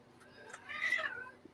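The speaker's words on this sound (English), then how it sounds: "these damn cats." A cat gives a single drawn-out meow that swells and fades, fairly close in a quiet indoor room, with no one speaking over it.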